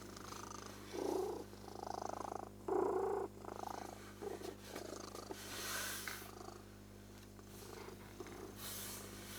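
A cat purrs softly and steadily up close, its low rumble swelling in a few louder bursts against a quiet, faintly humming background.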